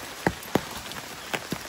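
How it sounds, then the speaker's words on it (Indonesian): Rain patters steadily during a hike on Mount Agung, with a soft continuous wash and a few distinct drops striking nearby surfaces at irregular intervals. "Padahal baru berangkat udah hujan ini."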